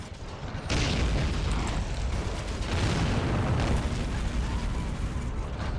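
Artillery strikes in a toy army-men battle video game, a sudden loud blast followed by sustained rumbling explosions and debris noise.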